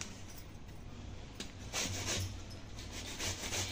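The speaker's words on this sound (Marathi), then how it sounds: "वरचा जो थोडासा हार्ड जो भाग असतो तोच खिसून घ्यायचा आहे" Steady rasping scrape of a hand grater shaving the hard outer skin of a bottle gourd in a kitchen, continuous close rubbing strokes that swell slightly louder toward the end, no talking.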